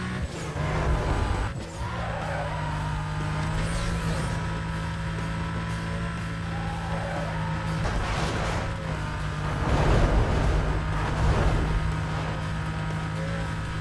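A car in Need For Speed Most Wanted drives hard with a droning engine hum and repeated squealing, skidding tires, the squeals swelling in several bursts over a steady background.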